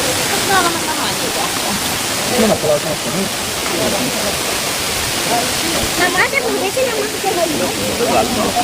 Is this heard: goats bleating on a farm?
no